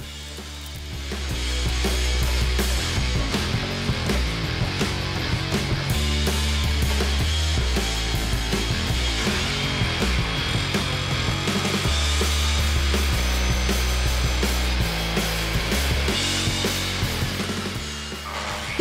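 A miter saw cuts through oak, beech, teak and pine, some cuts made with a blade insert and some without, giving a loud, sustained buzzing whine that runs steadily almost the whole time.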